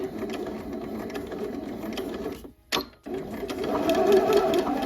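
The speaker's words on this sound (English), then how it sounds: "go ahead and go to the sewing machine and stitch these sleeves in." Steady mechanical whirring of a sewing machine running continuously, close by, with a brief pause and a click before stitching resumes louder.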